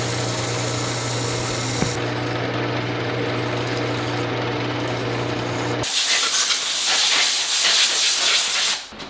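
A power tool grinds factory welds on a motorcycle frame during an FXR chopper build, first as a steady whirring hiss with a low hum, then as a louder, rougher broadband grind near the end.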